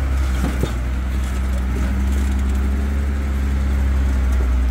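A 1943 Willys MB jeep labors up a slope on the Bronco Falls trail near Logandale, Nevada, its engine a steady, loud, close low drone that holds evenly throughout with no talk.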